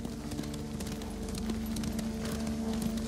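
Horses' hooves clatter at a steady gallop in the video game Ghost of Tsushima, a continuous rhythmic clip-clop beneath a low droning backdrop, with no voices.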